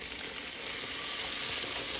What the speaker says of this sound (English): Got my butter sizzling away